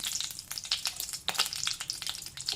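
Whole spices sizzle and crackle in hot butter in a pan for paneer masala, a dense, bright spattering hiss with sharp pops, close up and continuous.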